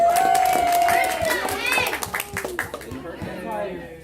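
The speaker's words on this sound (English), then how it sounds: "One more big round of applause for our volunteer" An audience at a going-away party claps for a volunteer onstage, a lively burst of hand claps mixed with cheers and a voice, thinning out toward the end under nearby talking.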